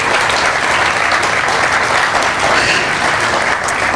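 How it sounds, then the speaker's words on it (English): Sustained audience applause at a grand opening ceremony on a former Navy base, a dense, loud, steady clapping from a crowd with no pauses, heard close. "let's give the whole group another round of applause"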